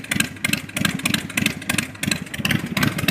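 A 2008 Big Dog K9 motorcycle engine is revved with throttle twists on a cold start, a loud, close, pulsing V-twin roar rising and falling in repeated surges.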